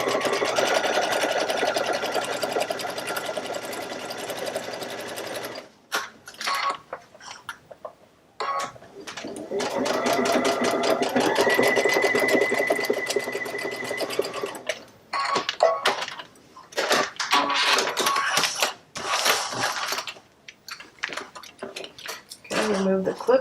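A sewing machine pieces a quilt in bursts of fast, close mechanical stitching, a long run at first, then stop-start spurts with pauses, and someone talks over parts of it.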